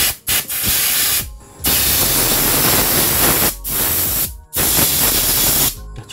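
Compressed air blasts in loud, hissing bursts through a dirty oil filter screen from a Honda Revo 110 dual-clutch motorcycle, with several long sprays broken by short pauses.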